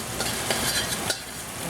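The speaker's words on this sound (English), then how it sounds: "And I'll put some butter in it. Put some onion in it." Butter and onion frying in a pan for a Hawaiian shrimp dish, a steady close sizzle broken by a few soft stirring scrapes, with no talk.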